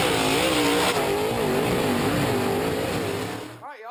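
A race car engine revs hard and close, the pitch rising and falling in waves, then the roar drops away abruptly near the end.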